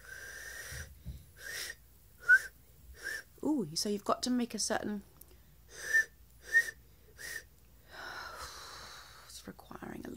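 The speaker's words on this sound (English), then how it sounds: "Whistle in." Someone whistles while breathing in, producing a string of short, breathy, wheezy whistle bursts in a steady rhythm, close to the ear, with a brief stretch of talking in the middle.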